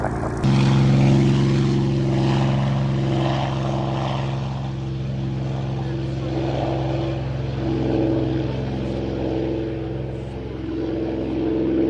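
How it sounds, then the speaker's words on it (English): A Spitfire piston-engine fighter runs up for take-off on a grass-and-tarmac airfield, a loud steady propeller drone with a deep harmonic hum that holds for the whole stretch with only slight swells. "Spitfire Juliet Victor departing Chipmunk in sight, take off at your discretion"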